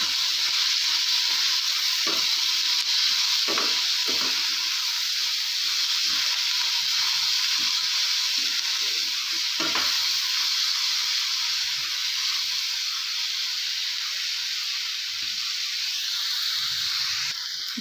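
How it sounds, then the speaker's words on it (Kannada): Green beans sizzling steadily in a pan for a hotel-style bean palya, a bright continuous hiss with occasional soft clinks and stirring scrapes, no voices. "ಬೀನ್ಸ್ ಎಲ್ಲ ಚೆನ್ನಾಗಿ ಫ್ರೈ ಆಗ್ತಿದೆ"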